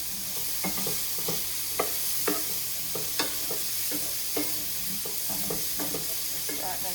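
Squash and other vegetables sautéing in a pan, a continuous hiss of frying with repeated tossing and spatula scrapes at an irregular pace, close up and alone.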